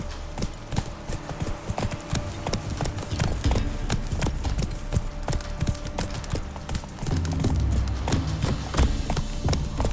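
Horse hooves clip-clop steadily at a riding pace in Witcher 3, a dense run of hoofbeats close by with a brief whinny-like touch, carrying through the whole stretch with no talk.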